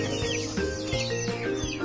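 Chickens on a farm cluck and squawk together, several birds close by with overlapping calls and short rising cries, no one speaking.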